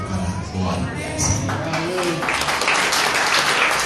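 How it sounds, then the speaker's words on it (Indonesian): A church congregation breaks into applause during a sermon, the clapping rising in loudness and holding steady as a dense, close wash of hands, with a preacher's voice speaking over it. "Tepuk tangan lebih baik bagi apa kita katakan haleluya."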